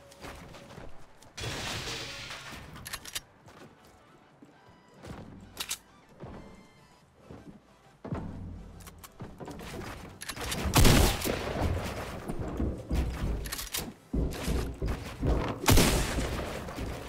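Repeated gunfire bursts in a Fortnite match, scattered shots early then heavier, louder volleys near the end, mixed with game sounds and no talking.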